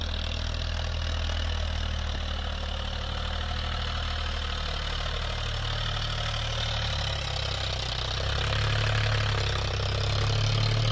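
A Ford 3600 tractor engine runs steadily under test, a loud continuous low diesel rumble with a knocking idle character that holds evenly throughout with no talking.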